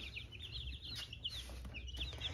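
Small chicks, about twenty of them, peep close by in a rapid run of high, thin chirps that come in clusters over a low background hum.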